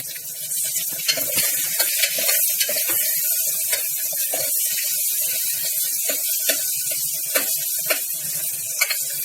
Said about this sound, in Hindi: अब हम सेक कम करके और इसमें प्याज डाल रहे हैं और प्याज को